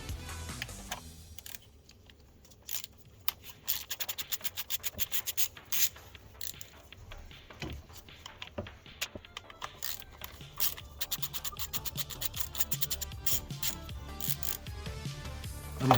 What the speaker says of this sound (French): on va pouvoir retirer ici les deux petites vis ici du faisceau d'injecteur